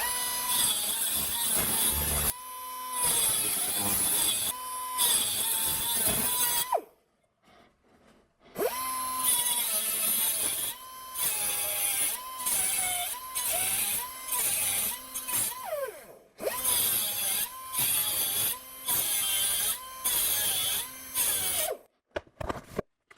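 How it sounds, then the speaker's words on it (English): Power tool cutting through tack welds holding a rolled sheet metal cone to a fixture, in loud bursts of grinding separated by short pauses, with brief near-silent gaps between passes. "So I need to cut through these tack welds to get this off the fixture."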